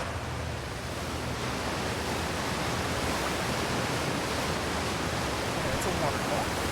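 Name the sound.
waterfall in the video game Outer Wilds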